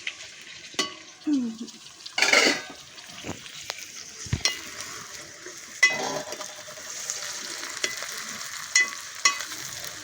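Tomatoes and prawns fry in a pan for a prawn gongura curry, with an ongoing sizzle broken by spoon scrapes, clinks against the pan and a few louder stirring bursts.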